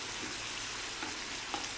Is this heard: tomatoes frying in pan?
yes